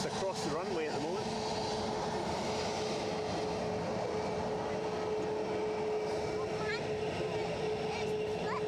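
An aeroplane's engines drone steadily at Edinburgh Airport on a windy day during take-off, a continuous loud roar with a sustained tonal whine running throughout, while voices speak over it.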